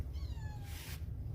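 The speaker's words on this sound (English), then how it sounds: "You could hear Shiloh out here meowing." A domestic cat meows outdoors, one drawn-out falling cry over a steady low background hum, with a brief burst of broadband noise partway through.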